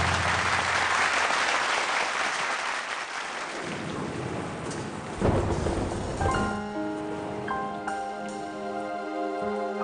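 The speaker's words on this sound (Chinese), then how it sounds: "洪佩瑜加油，掌声鼓励。" Applause from a television talent show audience roars for several seconds, then fades as piano and music begin underneath.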